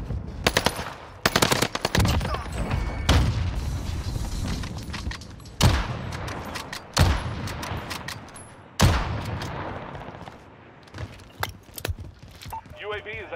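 Gunfire in Call of Duty Vanguard Warzone on Rebirth Island, with rapid submachine-gun bursts and loud single shots repeating across the scene, some close and some farther off, mixed with talk.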